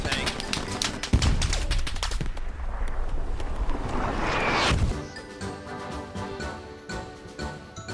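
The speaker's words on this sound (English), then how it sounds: "Shoot his body so he doesn't come back" Rapid bursts of gunfire crack through a World War II battlefield firefight in the game Hell Let Loose, with dense shots and a loud blast early on, then lighter scattered fire as the action thins out.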